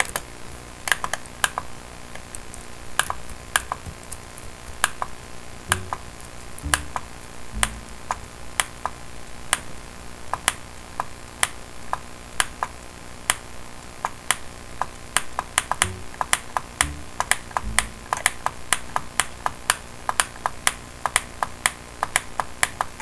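Sharp, close mouse clicks strike a player in Minecraft, tapped out in a steady, beat-like rhythm with occasional quick bursts over a faint background hum.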